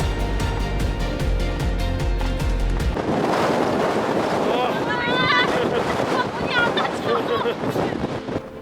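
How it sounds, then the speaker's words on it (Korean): Very strong desert wind, about 43 mph, at the Trona Pinnacles roars and buffets the microphone, starting as a deep rumble and turning into a loud, constant rushing gust, with voices faintly audible beneath it. "역시나 초강력 바람 서있기도 힘들다 앞에 시속 43마일 바람이다"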